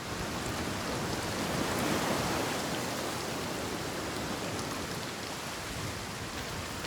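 Steady heavy rain pours in the grim, haunted setting of Senua's Saga: Hellblade II, a dense, even hiss of drops falling on surfaces that continues without any break and carries no voices.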